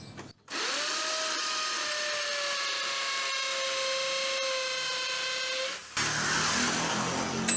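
A power drill bores a mounting hole in a wall for a hanging PET bottle planter, one sustained whining run of about five seconds that starts and stops abruptly, close and fairly loud.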